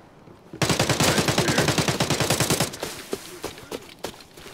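Rapid automatic gunfire in Arena Breakout Infinite, a long close burst of about two seconds followed by a few scattered single shots.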